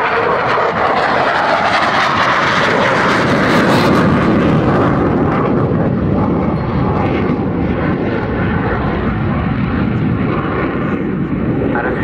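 A Saab Gripen jet fighter roars past at close range during a flying display at RIAT 2014, a loud, sustained engine blast that swells and slowly fades.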